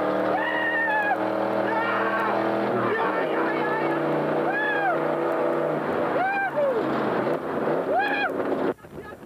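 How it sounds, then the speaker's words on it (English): A Camaro race car engine heard from the cockpit at a 1990 GM Motorsport race in Montreal, loud and close, revving up and dropping repeatedly through gear changes in a rising and falling pattern. "let's hear it from inside Kenny Wilden's Camaro"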